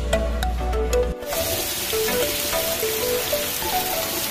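Heavy rain pouring down outdoors during a road trip, a dense, steady hiss of drops drumming on surfaces, with a low rumble and a few brief tonal sounds in the first second before the rain takes over.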